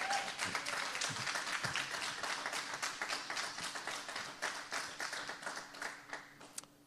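Audience applause at a rent control forum, a dense wash of many hands clapping steadily for about seven seconds, thinning slightly toward the end, with a faint voice underneath.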